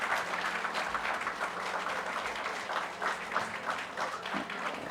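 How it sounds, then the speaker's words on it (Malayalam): An audience at an anniversary inauguration ceremony applauds, a dense, steady burst of many hands clapping together for several seconds, fairly close and with no voices over it. "നല്ലൊരു കൈയടി."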